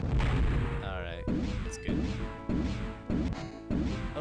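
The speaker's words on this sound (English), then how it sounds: "Hit an asteroid" A spaceship slams into an asteroid in the Privateer space-combat game, a heavy crashing boom followed by a series of repeated impact thuds at steady intervals, loud and close with layered metallic tones.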